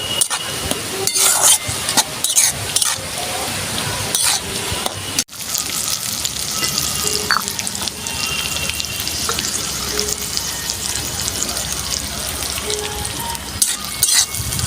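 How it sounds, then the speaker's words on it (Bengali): Ginger and garlic paste fries in a pan, a continuous close sizzle with intermittent stirring clatter and a brief break partway, no one speaking. "এবারে দেবো আমি এখানে আদা আর রসুন বাটা। এটা আমি ভালো করে ভেজে নেবো"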